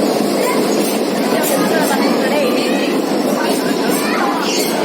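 Yercaud Express passenger train pulling into a station platform, a continuous rumbling roar of wheels and carriages close by, with people talking over it.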